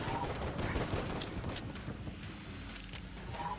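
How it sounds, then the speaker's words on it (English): Dense, continuous rumbling gunfire and explosions from the video game Enter the Gungeon, loud and sustained for the whole stretch with no clear breaks. "What's with the explosions?"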